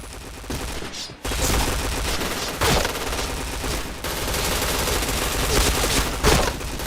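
Rapid bursts of gunfire in a shooting video game, loud and dense with overlapping automatic fire, dropping out briefly near the start and resuming in heavy sustained volleys.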